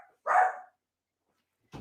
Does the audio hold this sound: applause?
no